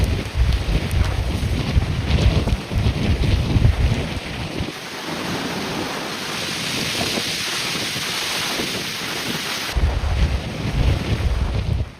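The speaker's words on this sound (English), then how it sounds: "wind gusts exceeding 50 miles per hour battered the shoreline, generating powerful waves that slammed into beaches" Tropical storm wind gusts buffet the microphone on the Galveston shoreline, with roaring surf and crashing waves beneath, loud and continuous with a brief lull midway.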